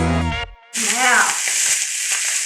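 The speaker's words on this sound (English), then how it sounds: "we just want to get a good sear on these, as much all around the sides as we can" Bratwurst sears in a hot pan with a loud, steady sizzle. A short harmonic tone and a brief gap come before the frying noise fills the rest of the clip.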